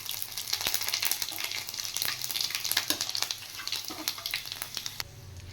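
Whole dried chillies and bay leaves sizzling in hot oil, a steady close crackle and spit with sharp pops scattered throughout, fading slightly at the end.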